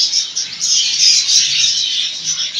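Small pet Australian birds in a home chirp and twitter continuously, a dense bright chatter of many overlapping high tweets close by with no voices.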